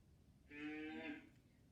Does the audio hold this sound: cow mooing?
yes